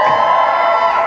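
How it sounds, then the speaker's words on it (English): A live comedy roast audience in Singapore cheers and whoops in a dense, sustained wall of crowd noise, loud and steady throughout with no single voice standing out. "Malay people, can you cheer louder for that?"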